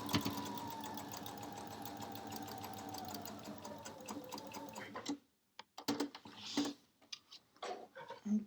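Sewing machine stitching quilt seams, a close, steady mechanical whir that runs continuously for about five seconds, then breaks into short, separate stop-start bursts with brief silences between them.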